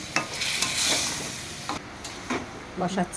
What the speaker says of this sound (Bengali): অল্প একটু জল দিয়ে আগে নেড়ে নিচ্ছে